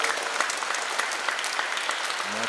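A congregation claps steadily throughout a church Mass, a dense, even patter of many hands filling the space.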